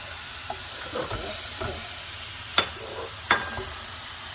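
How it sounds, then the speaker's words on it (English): Mushrooms frying in a pan give a steady soft sizzle, broken by a few light scrapes and two sharp utensil clicks near the end, with no talking. "Now we're just cooking these ones."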